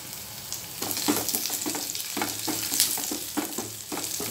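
Onion and garlic sauté in a hot pan for a Tamil pori kuzhambu, a steady close sizzle with a rhythmic series of spatula scrapes and stirs, no talking.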